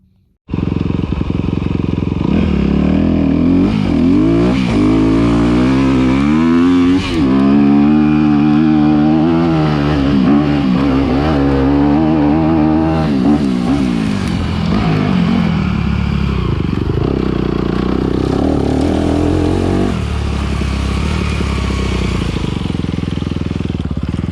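Honda motocross bike ridden hard around a dirt mx track, its engine loud and close throughout, revving up and down through gears in continuous rising and falling bursts.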